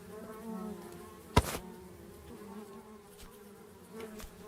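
Steady buzzing of bees, fairly quiet and continuous, broken by one sharp knock partway through.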